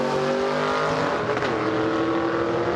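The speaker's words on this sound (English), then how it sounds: "that young blood car getting down the track very straight" Gasser drag race car roaring down a drag strip at a Southeast Gassers event in Darlington, South Carolina, a loud sustained engine howl with a pitch shift as it streaks past.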